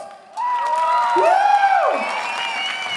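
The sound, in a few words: audience applause and cheering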